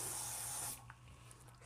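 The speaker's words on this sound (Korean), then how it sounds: "스프레이를 좀 뿌려주셔야 돼요" Hair spray sprays in one steady hissing burst for under a second while a bun hairstyle is being set, then cuts off and leaves a quiet room.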